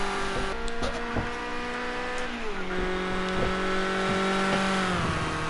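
A Ford Escort RS 1600 race car at Donington National, its engine droning steadily and shifting pitch as it works through a chicane, loud and continuous with no talking.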